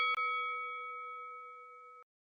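Notification bell sound effect: a single clear metallic ding that rings with a steady, pure tone for about two seconds, then cuts off abruptly into silence.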